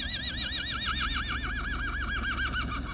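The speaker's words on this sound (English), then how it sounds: "Poor horse." A horse stuck by an electric fence lets out a long, wavering whinny that rises and falls in steady pulses for about three seconds, loud and close against a low rumble of background noise.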